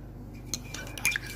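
A spoon stirs a glass of Fanta Grape mixed with Pepsi Max, giving a few quick, close metallic clinks against the glass, alone and brief.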